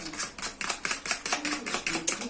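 Cassava flour pancake batter mixed with chia seeds, beaten in a quick, even rhythm of about five strokes per second, each a bright wet slap against the bowl, close and alone.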